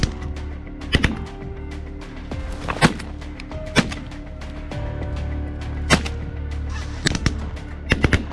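A flock of ducks calls and honks over a low, steady outdoor rumble, with several sharp, loud quacks standing out at irregular moments.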